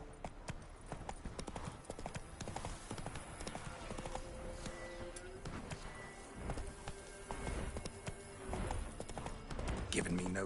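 The Witcher 3 horse Roach trots with steady, rhythmic clip-clop hoofbeats, close and continuous, while a voice talks over the galloping.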